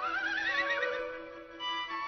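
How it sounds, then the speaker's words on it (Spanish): A horse neighs in a long, wavering whinny that rises and then trails off, loud and close, with no voices around it. "Caballo."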